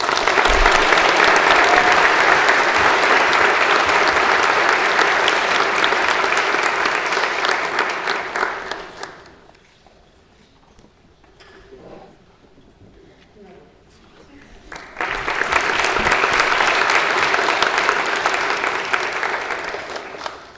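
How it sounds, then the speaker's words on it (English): Audience applause at a high school senior awards ceremony comes in two long, loud bursts of dense clapping, separated by a quieter stretch of several seconds where the clapping dies away. "Give a round of applause to Grady Patterson."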